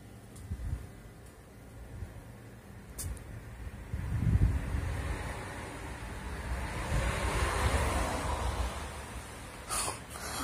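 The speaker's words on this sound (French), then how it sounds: "le vent commence à se lever." Gusty wind rising before a storm in Nîmes at dawn buffets the microphone and swells in strength, with a surf-like rush building toward the end and a few faint clicks.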